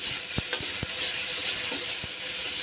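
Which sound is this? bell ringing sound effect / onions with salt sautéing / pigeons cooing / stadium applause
onions with salt sautéing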